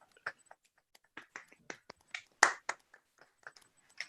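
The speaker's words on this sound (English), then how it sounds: "Can you unmute us and we'll give the usual applause?" Scattered, sparse applause from a handful of people unmuted on a video call: light, uneven claps and snaps of varying loudness, some close and some faint, with no talking.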